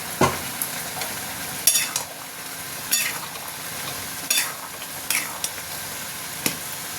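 Snake gourd, potato and poppy seed curry sizzling in a pan with a spoon scraping and stirring, producing several sharp scrapes and clinks over a steady low frying hiss.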